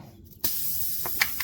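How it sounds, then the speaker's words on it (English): Air hisses out of a punctured tractor tire in a faint, brief burst, a soft steady spray-like sound after a short quiet start. "You can start to hear the air coming out"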